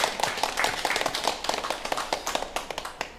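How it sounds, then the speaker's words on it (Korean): Church congregation applauding together after a call to give glory to God, a dense run of overlapping hand claps sustained for the whole stretch at steady loudness. "우리 그 하나님께 영광의 박수 올려드릴까요?"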